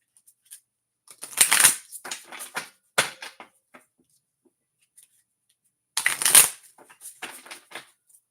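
Tarot cards being shuffled by hand, close and crisp, in two bursts of rapid riffling flutters with a single snap between them and near silence around each burst.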